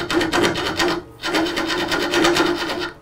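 A heavy wood lathe of over 700 pounds takes light, gentle cuts into a turning wood blank for a bird feeder, making a steady close rasping scrape with a brief pause partway through.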